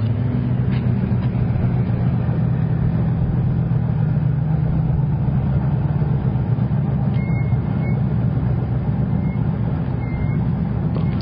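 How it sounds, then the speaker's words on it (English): A Chevrolet drag car launching hard at a Hot Rod Drag Week event in Tulsa, Oklahoma, its engine a loud, sustained low roar that holds steady for about eleven seconds, heard from a distance through broadcast audio with no talk over it. "Chevrolet pulls out hard, folks"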